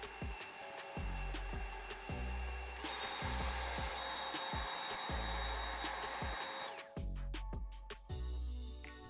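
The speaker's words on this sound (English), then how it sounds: "use a hair dryer to speed up the drying process." A hair dryer blows to dry nail stickers, with a steady whine and whoosh throughout, loud and close, and a repeating low thumping rhythm underneath.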